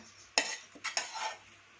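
A metal utensil scrapes food onto a plate, knocking against it a few times in quick strokes, close and fairly loud, with no talking.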